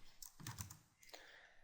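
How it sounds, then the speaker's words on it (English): A few computer keyboard keys are pressed, giving soft, quick clicks spread irregularly over under two seconds, faint and close. "We can just hit R on the keyboard and rotate it"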